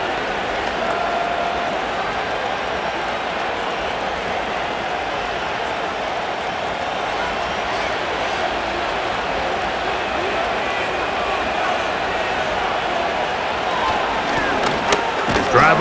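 Dense, steady roar of a simulated stadium crowd during a Madden NFL 25 Rams versus Falcons football game, continuous and loud throughout with a slight swell near the end.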